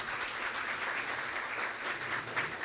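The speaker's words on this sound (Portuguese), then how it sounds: "Uma salva de palmas" An audience at a gathering gives a steady round of applause, even dense clapping held at a moderate distance throughout, with no talk over it.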